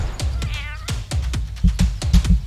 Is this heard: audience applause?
no